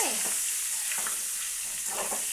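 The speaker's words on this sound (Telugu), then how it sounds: "పూర్ణం మసాలా పెట్టుకున్న వంకాయ వేసుకోవాలి ఒకసారి" Masala-stuffed brinjals frying in a pan with turmeric, a steady sizzle under repeated scraping stirs of a spoon, close and continuous with no voices.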